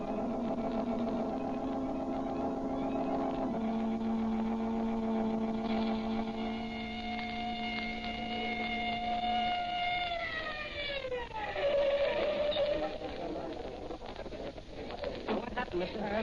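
A police car siren wails, rising and sweeping down in pitch over a steady engine hum, fairly loud and continuous throughout.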